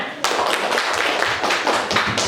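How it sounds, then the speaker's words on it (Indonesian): A group applauds a presenting student group in a classroom with steady, dense clapping at close range, sustained throughout without pause. "Tepuk tangan untuk kelompok 5."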